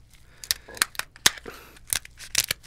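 Scissors cut through the shell of a boiled lobster at a seafood boil, giving about eight sharp, close snips and crunches in an uneven rhythm.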